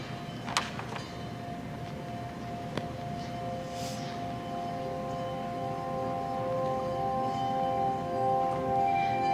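A handbell choir rings with a bell tree, sustained bell tones humming and overlapping at moderate volume, with a few sharper struck accents early on and a soft shimmering run near the middle.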